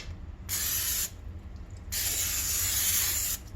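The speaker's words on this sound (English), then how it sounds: "Should I try and put some spray around the edges?" Cooking spray hisses from an aerosol can in two bursts around the edges of a baking dish, the first short and the second longer, close and fairly loud in a quiet kitchen.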